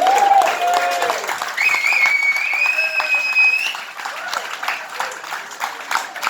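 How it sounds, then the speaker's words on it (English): An audience at a cricket club farewell gives sustained applause, broad steady clapping with a faint whistle and cheering voices rising over it midway, then tapering slightly. "Let's give a big round of applause to them."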